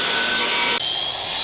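A rip cut is sawn through wood for a homemade carpenter bee trap, with a loud, steady rasp from a power saw that briefly dips and then continues.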